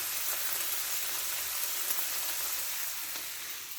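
Steak frying in a pan with green chilies, peppers, onions and mushrooms for a chimichanga filling: a soft, continuous sizzle with faint crackles, steady and fairly quiet, with no voices.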